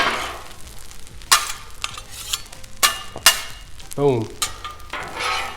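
Eggs sizzle and pop on a hot Blackstone griddle while a metal spatula scrapes and taps the flat steel top in short, sharp strokes, with a brief spoken word partway through.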